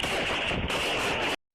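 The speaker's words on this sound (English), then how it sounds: "quickly escalated into a tense exchange of gunfire between sheriff's deputies and a car passenger" Gunfire traded between sheriff's deputies and a car passenger during a South Carolina traffic stop, captured on a bodycam: a loud, dense burst of shots lasting over a second, harsh and clipped, ending abruptly.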